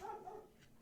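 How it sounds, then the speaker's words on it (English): A dog barks outside, one short faint bark at a distance, followed by quiet. "that's my dog barking out there."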